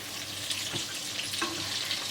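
Sour Talesh-style shami kebabs frying in a pan, a soft steady sizzle and hiss close by with a few faint clicks of a utensil, no talking.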